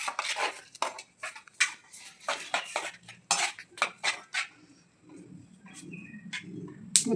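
Puliyogare tamarind rice being mixed by hand in a metal plate: rapid, busy clinks and scraping close up for several seconds, then softer, sparser rustling and taps.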